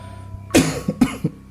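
A person coughs twice in quick succession, each a harsh, close burst with a short rough tail, over faint background hum.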